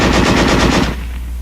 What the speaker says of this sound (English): Weapons giving automatic fire will fire continuously as long as pressure is applied to the trigger